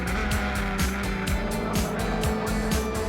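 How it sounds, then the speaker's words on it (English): Race cars battling for the lead in a championship race, engines roaring loudly and continuously with repeated falling pitch sweeps as cars pass close by. "With a deft move on the inside, George passed Hyman to regain the lead"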